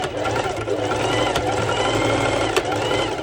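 A sewing machine stitches the front and back of a ruched fabric top, whirring rapidly and steadily up close with a dense mechanical chatter.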